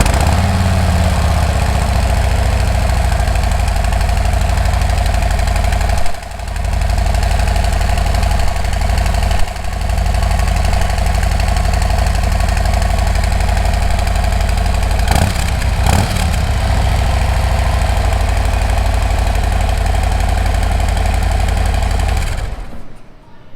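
A Harley-Davidson Road Glide with a 117 engine and stock exhaust idles loud and close, a steady low thumping rumble that dips briefly a few times before cutting off at the end.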